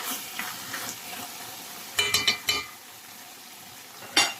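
Chicken breast and ingredients stirred in a frying pan: a soft background sizzle under a quick cluster of four or five metallic utensil scrapes and clinks, then a quieter stretch and one last scrape.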